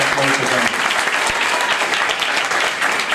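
Loud, sustained applause from a crowd at a gathering, steady dense clapping throughout with no pauses.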